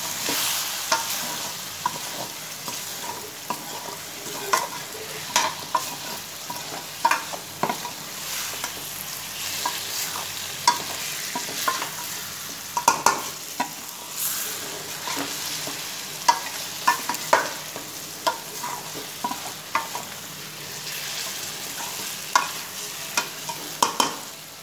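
Spoon stirring raw mango and gunda (lasoda) vegetable with red chilli powder and spices in a pan over low gas, a steady soft scraping and sizzle with irregular clicks of utensil against metal throughout, no talk.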